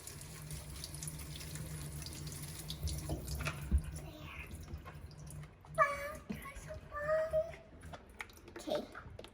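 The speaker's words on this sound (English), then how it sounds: "now I need to water it." Tap water runs and splashes briefly while mung bean microgreens are watered indoors, with someone talking and some handling clatter around it.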